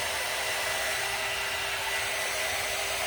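A hair dryer blows steadily on a painted craft project, a loud, even whooshing roar that holds unchanged throughout with no voices.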